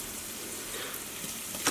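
Brussels sprouts searing flat side down in vegetable oil and butter, giving a steady hissing sizzle that ends in a short sharp clink.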